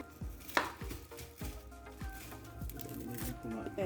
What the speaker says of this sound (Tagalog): At sunod natin yung sibuyas. Slice lang po natin ng regular size.